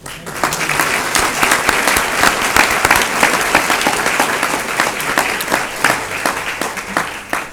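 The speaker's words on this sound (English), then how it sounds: "we're going to give you a round of applause" Audience at a school board meeting giving a round of applause to honored staff from several academies, a dense, sustained clapping of many hands filling the room at steady loudness for several seconds.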